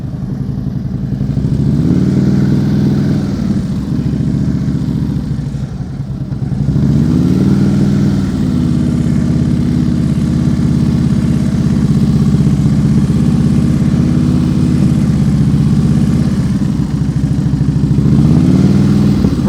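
A motorcycle engine hums close by during slow-speed riding practice in New Jersey, a steady low drone that swells and eases in gentle rhythmic waves as the throttle rises and falls.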